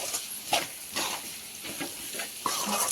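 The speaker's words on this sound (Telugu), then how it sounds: "ఇలా బాగా మిక్స్ చేసేసుకోవాలి" Ivy gourd (dondakaya) fry is stirred and mixed in a pan, giving quiet sizzling with repeated scraping strokes at an irregular rhythm, soft and close.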